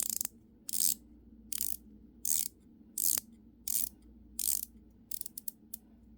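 A coin-edged rotating bezel on a dive-style watch clicks crisply through a series of turns, each turn a short burst of sharp ratcheting ticks, evenly spaced and close, with a quick flurry of lighter clicks at the end.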